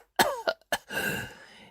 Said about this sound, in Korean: 누워 계신 할머니가 기침을 콜록거리시며 쓴소리를 시작하셨어요.